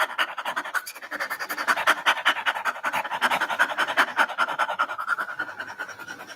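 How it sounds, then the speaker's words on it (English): Rapid mouth breathing with the tongue out during a pranayama kriya exercise, a fast, even series of close, breathy pants repeating steadily for several seconds, with no talk. "start inhaling and exhaling rapidly with the mouth"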